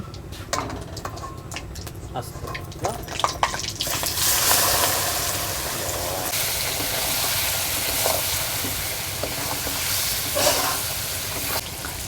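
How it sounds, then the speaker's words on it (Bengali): Marinated stingray fish pieces go into hot mustard oil left from frying potatoes; a few early clatters give way to a loud, steady, close sizzle that holds to the end. "ম্যারিনেট করা মাছটা আলু ভাজার তেলে দিয়ে দিলাম"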